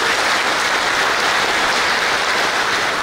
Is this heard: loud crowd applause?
yes